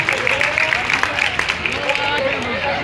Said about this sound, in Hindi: शूरवीरों वाली तालियां एक बार आप बजाएं